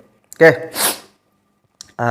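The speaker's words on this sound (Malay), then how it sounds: "Mau bersin pula." One person sneezes close by, a quick voiced intake followed by a sharp, breathy burst, and speech starts again shortly after.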